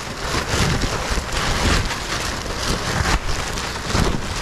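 Steady, dense, cold rain in flooded Florida hissing and pattering on a surface nearby, loud and continuous with no voices.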